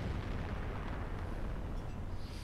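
A tank cannon round from a video game strikes in front of an enemy turret, a heavy booming blast with a rumbling roar that stays loud and dense, tapering slightly at the end.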